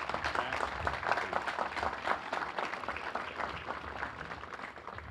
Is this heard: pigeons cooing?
no